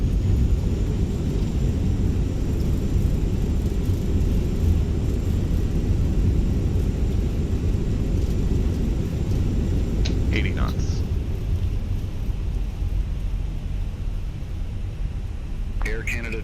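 Fenix A320 airliner rolling out after landing in a flight simulator, thrust reversers giving a heavy, steady low roar and rumble that holds throughout, with brief faint cockpit sounds near the end.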